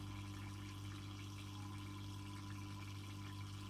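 Water flows steadily through a Ganesh tabletop fountain, a continuous close trickling wash that stays even and alone throughout.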